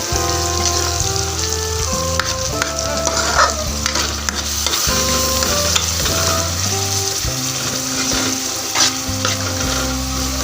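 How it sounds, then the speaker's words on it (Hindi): Minced meat and spinach for palak qeema are stirred in a sizzling pan, a steady close frying hiss broken by repeated scrapes and knocks of the spoon throughout. "मुकम्मल तौर पर अच्छे से मिक्स करेंगे तो कीमा और साग अच्छे से मिक्स हो जाएगा"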